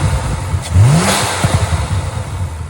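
A modified BMW 335is engine revs up and drops back, a deep throaty rise followed by a few sharp blips, up close over steady background rumble.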